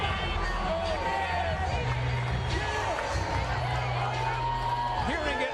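A boxing arena crowd gives a mild, murmuring reaction as heavyweight James Toney comes into view, with a low hubbub and scattered calls under a commentator's voice.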